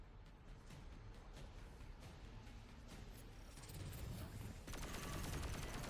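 Weapon fire in the video game Destiny 2 comes as rapid bursts of shots mixed with other in-game sounds, gradually growing louder toward the end.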